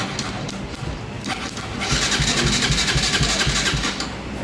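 A Bajaj Rouser 200 motorcycle with a new battery and a suspected starter relay fault: a brief cranking, then the engine catches and settles into a loud, steady idle close by.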